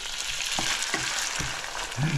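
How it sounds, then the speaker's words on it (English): Ginger, garlic, pancetta and onions frying together in a pan, a steady close sizzle broken by a few soft stirring scrapes, with no talking. "we've got ginger, garlic, pancetta and onions all frying nicely together"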